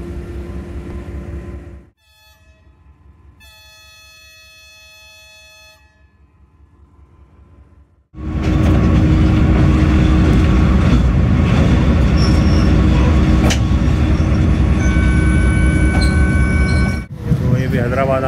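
The Zikriya Express pulls out of a station. A long, tonal starting whistle sounds first. Then the loud, steady rumble and clatter of the train rolls on with a high wheel squeal, and voices are faintly audible.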